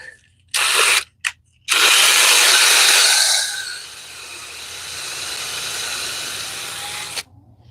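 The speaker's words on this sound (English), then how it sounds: "They will probably run when I start the drill" A power drill on a homestead whirs loudly in short bursts, then holds a long steady run that softens partway through before cutting off.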